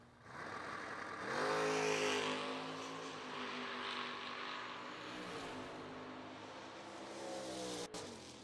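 A Chevy Malibu station wagon drag car launches on a single run at Darlington Dragway, its engine roaring loud and steady for several seconds with a rising harmonic pitch, then easing and swelling again as it moves away.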